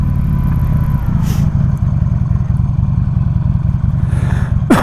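A Buell XB9 motorcycle rumbles loudly during a test ride, its big V-twin engine pulsing in a steady, throbbing idle-to-rev growl up close, with some wind noise and a brief rising rev near the end.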